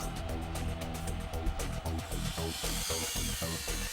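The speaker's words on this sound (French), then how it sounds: "L'usinage des bords de tube prépare le processus de soudure." Steel pipe edges being machined before butt welding on site, a dense grinding, cutting tool sound with steady buzzing and rapid rhythmic chatter, loud and continuous without speech.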